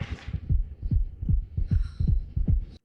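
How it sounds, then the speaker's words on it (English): A heartbeat sound effect from a TV show, a deep, booming thump-thump pulse repeating about six times, loud and close with a low hum underneath and no talking. "He can hear his heartbeat."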